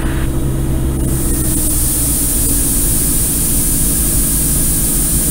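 A Diamond DA40NG light aircraft's engine drones loudly and steadily while taxiing, a constant close, heavy engine hum heard from inside the cockpit with no pause across the clip.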